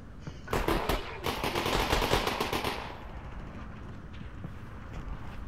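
Rapid bursts of automatic gunfire from Combine soldiers in Half-Life: Alyx, dense rattling volleys for about two seconds, then fading into a quieter windy ambience.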